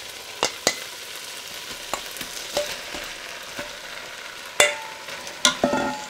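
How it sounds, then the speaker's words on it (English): Beef tipped into a pot of caramelized onions and tomato sizzles softly and steadily, with several sharp scrapes and clacks of stirring standing out above the hiss, close by and without talk. "So now we add in our meat."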